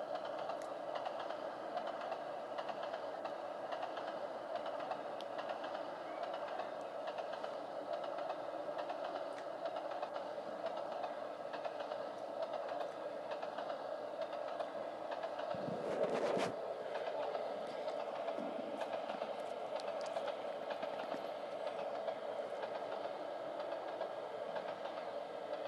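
A train in Trainz Simulator 2 rolls steadily along the rails near Trenton, a continuous mid-pitched rumble and hum with faint clicking, holding steady throughout apart from one brief louder thump partway through.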